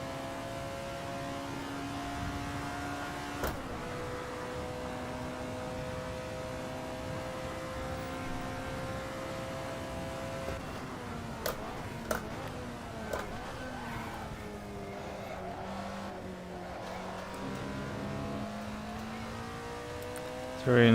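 An Alfa Romeo 33 Stradale in Assetto Corsa, driven over varying asphalt on the historic Albi circuit, holds a steady engine drone with shifting pitch as it slows and builds again, with tyre and surface noise and a few sharp knocks from the road.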